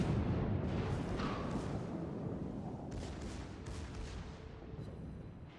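A battleship's main guns fire a salvo in World of Warships during a Großer Kurfürst match, a deep rumbling boom that rolls on steadily with heavy low-end weight and slowly fades, with no voices over it.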